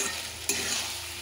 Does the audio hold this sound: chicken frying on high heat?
yes